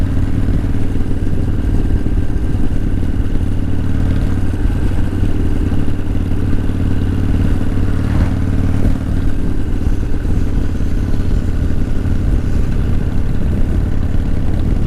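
A vintage Harley-Davidson Softail motorcycle, ridden to Sturgis in the early 1990s, runs steadily with a loud, close, rumbling and lightly clattering engine note that holds a constant pitch throughout, with no voices.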